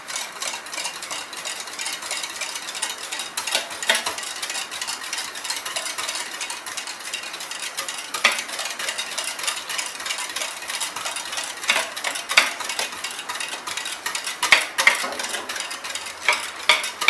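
Condensed milk is stirred into pineapple pudding with a utensil, a steady close scraping and swishing that runs on with small clinks against the pan and no talking.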